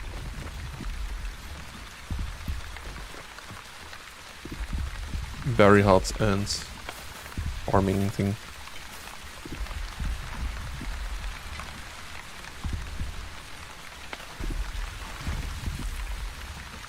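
Rain falls in the video game The Wandering Village, a soft steady patter running throughout beneath a person talking, with a couple of brief louder bursts midway.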